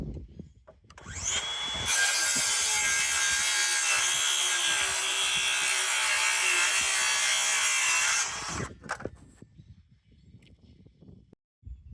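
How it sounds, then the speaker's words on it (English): A circular saw cuts wood boards for a pergola, a loud sustained shrieking cut of about six seconds with the motor spinning up before and winding down after, then quiet handling noises. "and cut them with my circular saw"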